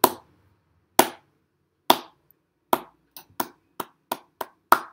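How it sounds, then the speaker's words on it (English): Single hand claps ring out in a quiet room, starting slowly about a second apart and then speeding up into quicker claps, each a sharp crack with a short decay. "And then you just start with a slow clap."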